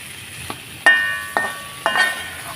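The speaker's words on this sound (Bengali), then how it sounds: "এই যে সুন্দরভাবে কষিয়ে নিচ্ছি, সব মশলাও কষানো হয়ে গেছে।" Apple, paneer, potato, tomato and spices being sautéed for an apple-paneer curry, a soft sizzle broken by three or four sharp spoon knocks and scrapes against the pan, close and quiet.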